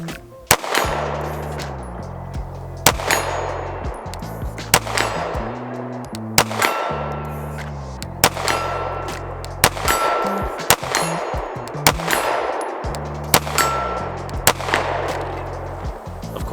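Pistol shots from a BUL Armory SAS II ultralight compact fired at 50 yards, about seven loud, sharp reports spaced a couple of seconds apart, each with a short ringing decay and no talking.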